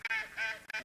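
Ducks quack in three quick, nasal calls during an autumn duck hunt, close and fairly loud, with brief gaps between them and no talking.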